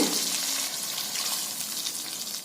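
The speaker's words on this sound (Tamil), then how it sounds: "கொஞ்சமா தண்ணி விட்டுறலாங்க" Steady hissing, sizzling wash of water poured into a hot cooking pan for banana stem kootu, continuous and close, with no voices.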